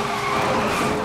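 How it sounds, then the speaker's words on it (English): An Audi R8 GT Spyder drifting in the racing game NFS: Most Wanted (2012), giving a sustained tire skid and squeal over engine noise, loud and close, with no voices. "Big drift."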